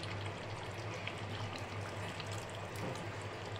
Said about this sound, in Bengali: তো অল্প করে একটু জল দিয়ে দিলাম, গরম জল।